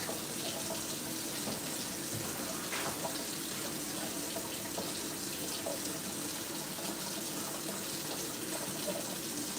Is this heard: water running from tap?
yes